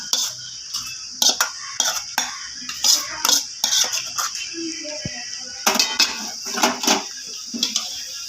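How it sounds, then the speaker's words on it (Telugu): Fried onions and green chillies are stirred into fried chicken in a pan. A metal spoon scrapes and clinks against the pan in quick, irregular bursts, close and fairly loud, with brief pauses between strokes. "ఉల్లిపాయ పచ్చిమిర్చి వేయించింది దీంట్లో చికెన్ ఫ్రై అయిన దాంట్లో కలిపేయాలి."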